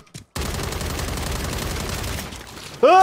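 Dense, sustained gunfire from a battle-royale shooter game, loud continuous bursts filling about two and a half seconds after a brief pause, ending with a sharp tonal sweep-like effect.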